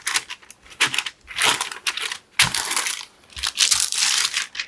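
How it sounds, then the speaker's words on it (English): Olive oil being spread over parchment paper in a 17 by 12 inch sheet pan, with irregular bursts of close crinkling and crumpling paper and brief quiet gaps between them. "just get that olive oil spread around on that parchment."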